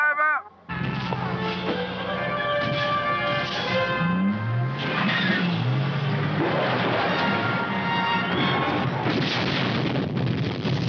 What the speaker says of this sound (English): it was just the explosion